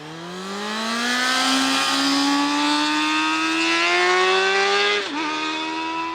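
600cc supersport motorcycle with a LeoVince exhaust, its engine note climbing steadily under hard acceleration, loud and close, then dipping sharply at a gear change before pulling again.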